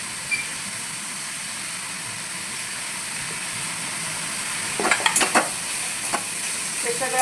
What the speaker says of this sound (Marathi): हे सगळं आपल्याला व्यवस्थित परतून घ्यायचं आहे.